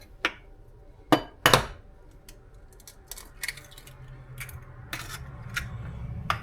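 Two farm fresh eggs cracked into a bowl for French toast, a few sharp taps and cracks spaced apart, followed by softer handling noises close by, with no talk.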